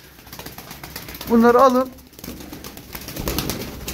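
Pigeons coo in a short, loud burst of rolling throaty notes close by, followed by quieter rustling and a man's brief spoken words.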